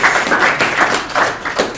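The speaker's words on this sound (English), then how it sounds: "a round of applause for the cameramen who've taken the time to do that today" Audience applause at a Let's Move Africa event in a London function room, a short burst of steady, fairly loud clapping filling the whole moment without speech.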